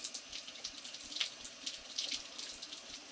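Water runs steadily from a tap as a face is rinsed during a powder wash, a faint, continuous splashing trickle with small irregular spatters and no speech.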